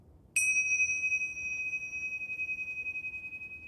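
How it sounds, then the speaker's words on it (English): A single bright, high metallic ding from tingsha cymbals struck together, ringing on with a long, slowly pulsing sustain and no talking. "This is a tingsha."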